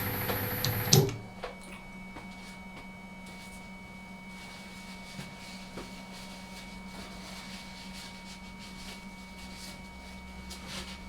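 An old lathe that leaks oil, cutting a Golf GTI air-ride part, hums and whines steadily, with a thin sustained tone and occasional faint ticks after a loud clatter at the start.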